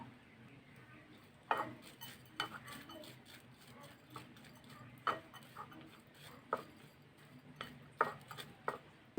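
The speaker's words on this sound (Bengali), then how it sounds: "1 চিমটি পরিমাণ লবণ, 1 চা চামচ চিনি। এখন আমি ভালো করে মিশিয়ে নেব।" Flattened rice being mixed by hand in a bowl with salt, sugar and turmeric, heard as faint scraping with intermittent sharp spoon-on-dish clicks spaced irregularly.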